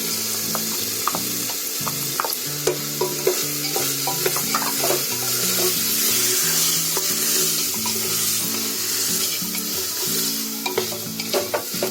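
Whole masoor lentils tumble into a hot pan with ginger-garlic paste and are stirred, giving a steady close sizzle under repeated scraping and clicking of the spoon against the pan, with no talking.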